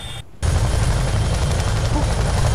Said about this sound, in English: Ah, bro, we're in an attack helicopter.